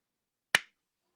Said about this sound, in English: Ed, can you clap?